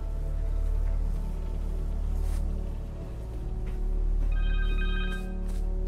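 A cell phone rings in the Spider-Man 2 video game, a steady electronic telephone-bell ring over a dense, loud game soundscape, with a brighter chiming ringtone layer joining toward the end.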